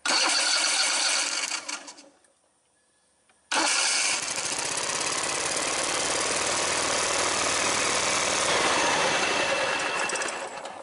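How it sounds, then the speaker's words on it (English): A Kohler Command twin-cylinder engine is cranked over by its starter in two loud, close bursts, a steady rapid whirring chug with a short silent gap between them. "I'm going to spin the motor over"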